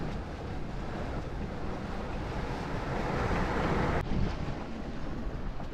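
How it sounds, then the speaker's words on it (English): Ocean waves wash and surge steadily around a sailboat reefed down on a long passage from Vanuatu to Cairns, with broadband water rush and wind noise on the microphone building slightly toward the end. "the waves are picking up the boat quite good"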